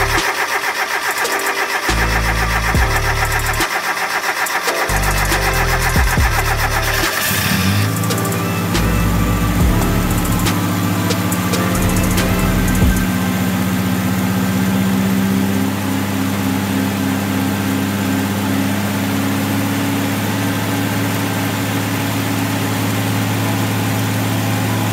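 A Mazda B2200 pickup fitted with a new Weber carburetor cranks in several rhythmic bursts, catches and fires up, then settles into a steady, loud close-up idle with a constant hum.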